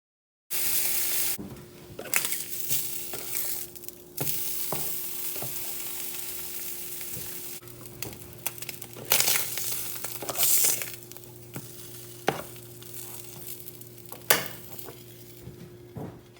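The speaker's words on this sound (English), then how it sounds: "the Spam has started to pop a little bit" Slices of Spam fry in a pan, giving a steady sizzle with scattered sharp pops and a few clinks of utensils against the pan.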